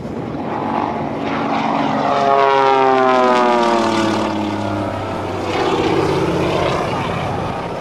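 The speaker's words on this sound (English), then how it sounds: "Listen to the 500 horsepower Pratt & Whitney R985 engine." A Pratt & Whitney R985 500-horsepower radial engine on a propeller plane roars loudly and steadily at an airshow, its pitch sweeping as it passes overhead, with a faint voice beneath.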